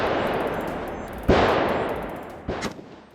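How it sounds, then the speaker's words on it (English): Gunfire at a two-gun action challenge shooting match: a loud sustained burst of rapid shots with echo, then two separate sharp cracks, each trailing off, with no talking. "shots at our two-gun action challenge match."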